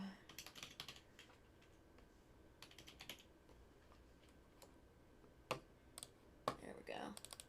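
Computer keyboard typing during a livestream, quiet close clicks in irregular bursts with a few sharper louder keystrokes near the end.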